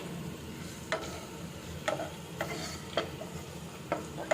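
Garlic pieces fry in oil in a pan for beef chaap, giving a soft, quiet sizzle broken by a few light ticks and stirring clicks roughly every second.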